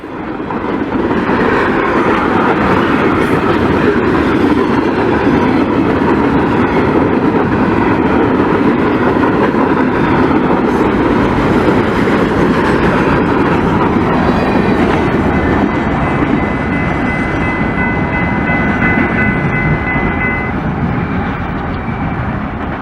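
Loud, continuous rumble and rattle of a long freight train with auto-rack and manifest cars rolling past nearby in eastern Pennsylvania, with metallic squeals and clanking wheels.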